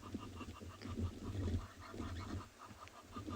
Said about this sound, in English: this Egyptian goose really sounds like an old car trying to start